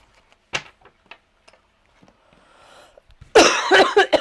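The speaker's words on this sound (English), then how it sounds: "I'm trying to edit all the coughing out, but if I miss one, I'm sorry." Several sharp ticks and knocks in a quiet room lead into a loud, close burst of harsh coughing near the end.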